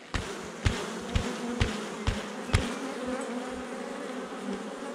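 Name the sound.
agitated honeybees buzzing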